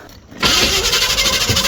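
A Chevy V8 starter cranks over the engine with a loud, rapid, rhythmic churning, but the engine does not catch, apparently starved of fuel by a failing mechanical fuel pump; the churning begins abruptly after a short quiet moment.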